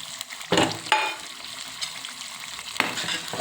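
Tomato puree made from three tomatoes is frying and being stirred into masala for pav bhaji, with a soft sizzle and a few sharp bursts of spoon scraping against the pan.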